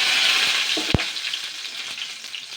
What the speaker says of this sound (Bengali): কড়াইতে কিন্তু আমি রিফাইন্ড অয়েল তেল দিয়েছি আপনারা চাইলে সর্ষে তেলও করতে পারেন তো এখানে আমি ফোড়নটা দিয়ে দিচ্ছি